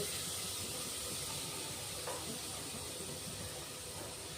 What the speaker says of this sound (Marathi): छान मसाला परतून घ्यायचा आपला, कांदे, टोमॅटो, खडे मसाले।